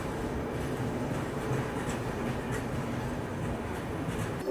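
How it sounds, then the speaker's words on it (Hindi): A Muzaffarpur–Valsad express train rolls past at a station, a steady, loud broadband rumble of railcars with faint clatter, continuous and close, with no talking. "अब ये आई वलसाड, नहीं मुजफ्फरपुर वलसाड"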